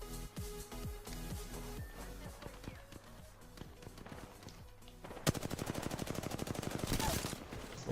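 Gunfire in an Apex Legends fight: scattered single shots and footsteps first, then a loud, rapid automatic burst of evenly spaced shots over the second half, close and dominant.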